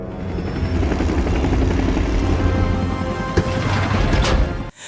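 Helicopter in an action film, its rotor and engine giving a dense, steady loud drone close by for several seconds, with a brief thump near the end before the sound cuts off.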